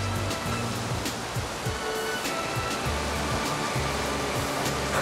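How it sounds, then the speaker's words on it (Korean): A cold mountain stream fed by glacier meltwater rushes in a steady, continuous wash of flowing water, with no voices. "개울물은 빙하가 녹은 물이었습니다."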